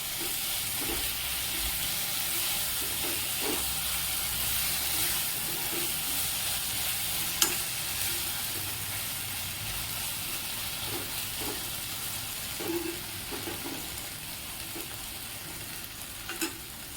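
Leftover roti snack mixture with tomato ketchup stirred in a pan on low oil, a steady soft sizzle with occasional spoon scrapes and taps throughout, no voices.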